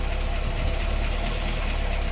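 A Rambler car engine running with an exhaust leak, a steady low idling rumble with a faint rhythmic puffing, close and continuous, with no speech.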